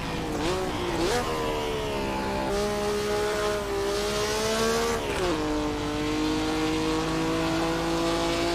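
Race car engine in the Assetto Corsa video game, a loud sustained high-pitched whine that climbs and drops between gear changes, close and continuous with no talk.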